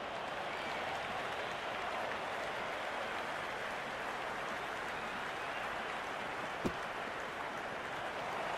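A large stadium crowd at the India versus New Zealand T20 World Cup cricket final keeps up a continuous wash of applause and cheering, broad and distant-sounding, with one sharp clap-like crack near the end.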